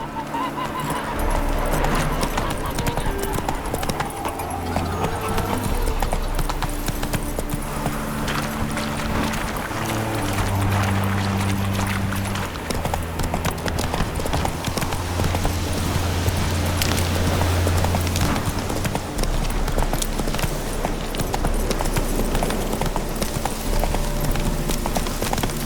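Roach, a horse in the Witcher 3 game, gallops continuously with steady clip-clop hoofbeats, loud and close, mixed with the game's music and ambient sound and no pauses.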